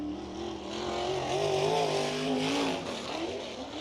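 USAC National Sprint Car Series cars roar around the Bloomington Speedway dirt oval, engines wailing and rising as they pass, loud and steady with a crowd-like wash underneath.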